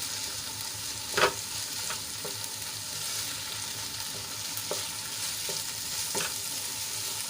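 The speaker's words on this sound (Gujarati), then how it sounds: "અહીંયા બાફેલી મેથી હતી એને આપણે એડ કરી લેવાની છે અને સરસ રીતે આપણે મિક્સ કરી લઈશું" Boiled fenugreek leaves are stirred into hot oil in a pan for a methi papad curry. A continuous sizzle runs throughout, broken by a few distinct spoon scrapes and taps, with no voices.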